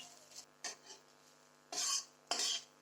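Onions frying in oil are stirred in a wok, a metal utensil scraping the pan in a few short strokes and then two longer sweeps, close by with a faint sizzle underneath.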